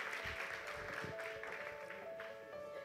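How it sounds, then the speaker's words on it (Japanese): Applause from a conference audience after a speaker at a closing session, a steady mid-level patter of clapping through the whole stretch with some faint voices mixed in. "鈴木さんに大きな拍手でお送りください"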